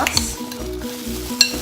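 Oyster sauce is stirred into meat frying in a pan, a close sizzle with a few rhythmic scraping stirs and a sharp clink of the utensil against the pan.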